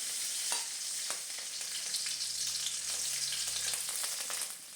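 Garlic cloves and chopped green chillies frying in a pan for a Kerala snake gourd curry, a steady broadband sizzle with a few light stirring clicks, close and continuous with no talking.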